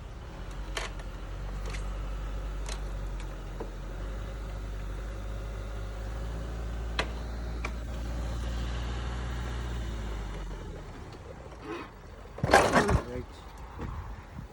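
Hero Glamour 125cc motorcycle on its center stand, idling with a steady low putter for about ten seconds before cutting off, followed by a short burst of louder noise near the end.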